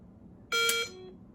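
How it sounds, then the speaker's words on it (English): A single electronic beep sounds from a Mantis dry-fire training system, a short, sharp tone lasting about a third of a second against a quiet room. "There's another beep."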